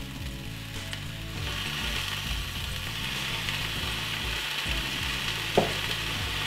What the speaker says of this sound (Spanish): Pero primero que todo vamos a saltear la zanahoria, que es nuestra verdura más dura.